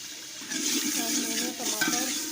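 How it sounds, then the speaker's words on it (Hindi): A tomato, ginger and garlic masala with spices frying in a pan, a close, steady sizzle with stirring scrapes running throughout. "अब मैंने इसको अच्छी तरह भून लेना है।"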